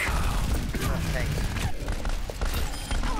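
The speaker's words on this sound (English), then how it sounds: "Oh, she's shooting me, she's shooting me." Rapid gunfire from an Overwatch match fills the clip, loud and continuous with booming shots, while a player talks excitedly over it.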